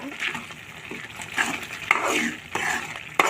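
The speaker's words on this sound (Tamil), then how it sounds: "நெய் சேர்த்து நல்லா கிண்டி விட்டுடலாம்" Bread halwa with ghee is stirred in a pan, a continuous close mushy scraping and squelching with a soft sizzle beneath it and a few sharper knocks of the spoon against the pan.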